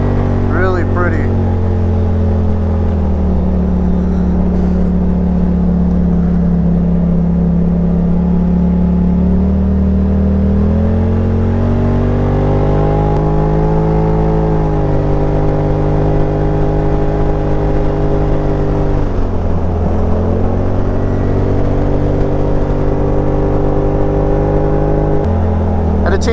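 Polaris RZR Turbo S side-by-side driving through the Middle Fork Boise River canyon in Idaho, a loud continuous engine drone whose pitch rises and falls as it accelerates and eases off, close and steady throughout.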